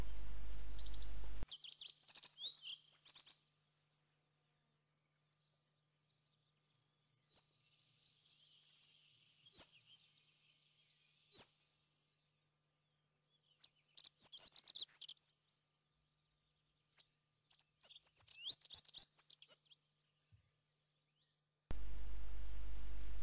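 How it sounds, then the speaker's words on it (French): Rock buntings in the mountains of Aragon, Spain, giving thin high chirps and short calls in scattered bursts, near and clear against otherwise quiet surroundings. "Regardez bien, ce ne sont pas des moineaux, mais des bruants fous."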